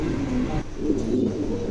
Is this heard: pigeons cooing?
yes